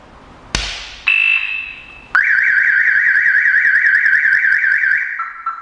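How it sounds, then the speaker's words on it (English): A sharp tap of a coin on glass, then a brief tone, then a loud warbling car alarm on a Nissan Skyline R34 GT-R V-Spec II Nür that wails steadily for several seconds close by. "Then you heard the pound coin hitting the glass, and then you heard the alarm giving a hard reset"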